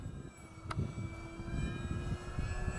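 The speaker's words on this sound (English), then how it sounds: "That's a sweet flying plane, man. That is a sweet flying plane." A radio-controlled Avios Albatross HU-16 V2 model flying boat in US Coast Guard markings cruises overhead with a steady, moderately loud engine drone that holds even throughout, with no talking.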